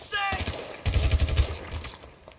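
Gunfire in GTA V gameplay: a dense burst of rapid shots, loud and close, runs through the middle of the clip, with fainter game sounds before and after.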